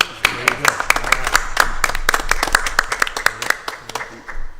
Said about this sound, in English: that does deserve an applause